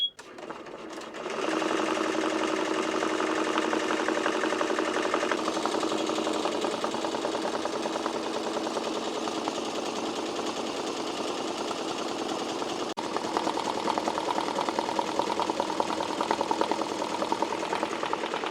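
A Tajima TMBP-2 embroidery machine stitching a Yupoong hat starts up and runs continuously, a loud, close, rapid mechanical chattering hum with steady needle rhythm throughout.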